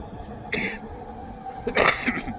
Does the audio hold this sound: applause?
no